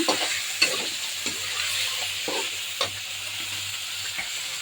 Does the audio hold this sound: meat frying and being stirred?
yes